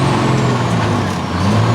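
A truck with a 10-speed transmission slipping into gear, its engine rumbling loud and steady from inside the cab as a continuous low drone with no talking.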